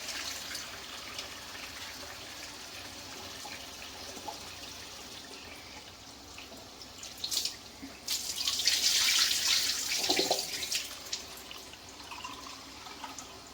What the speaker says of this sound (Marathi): हा साबुदाणा भिजेल एवढं पाणी याच्यात घालायचं.